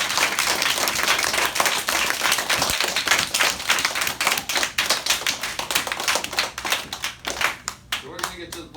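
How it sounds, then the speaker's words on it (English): Elementary school students applaud a visiting agriculture commissioner, loud dense clapping that gradually loosens into scattered individual claps and thins out by the end, with faint voices underneath. "Let's give him a round of applause."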